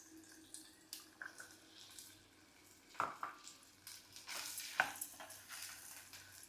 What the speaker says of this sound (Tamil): இப்போ வெள்ளைப்பூண்டு போட்டுக்கலாம்.